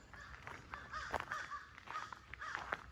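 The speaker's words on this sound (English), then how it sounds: "Now these crows are right up here doing the same thing." Crows caw repeatedly in a wooded Missouri park, several harsh calls in an irregular series, fairly distant and faint against a quiet outdoor background.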